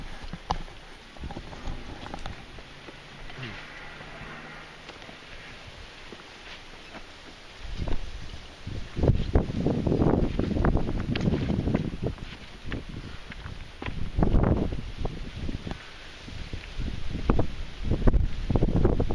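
Gusty wind blows outdoors in a canyon, starting as a soft background rush, then buffeting the microphone in louder rumbling gusts that come and go.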